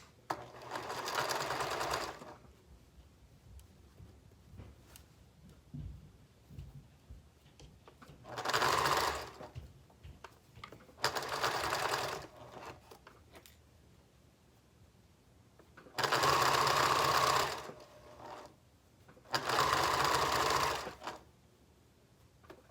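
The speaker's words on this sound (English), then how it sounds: "I'm going to take this over to the sewing machine." A sewing machine stitches fabric for a fabric bin with a half-inch seam allowance, in five separate bursts of rapid whirring, each lasting a second or two, with quiet handling and rustling between them.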